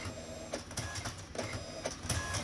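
An ALPS printer lays down a white spot layer, heard as a mechanical whirring with repeated clicks and carriage movements in an uneven rhythm, close and moderately loud with no talk.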